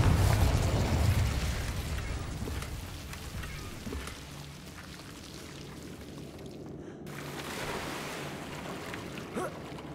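A Confringo explosion spell in Hogwarts Legacy, heard as a heavy, rumbling blast at the start that decays into a long, wash-like tail, with a second fainter surge later and no talk.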